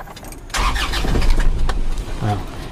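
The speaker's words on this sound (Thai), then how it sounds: "เดี๋ยวพาสตาร์ท ฟังเสียงเครื่องยนต์นะครับ" An Isuzu D-Max 2.5-litre pickup truck engine cranks and catches, then settles into a rough idle, close by, with a brief voice near the end.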